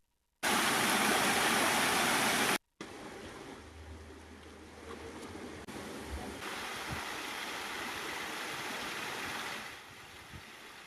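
Water pouring over a full check dam on the Chamanalli stream in Yadgiri, a continuous rushing roar. A very loud burst at the start gives way to a steadier, more distant flow.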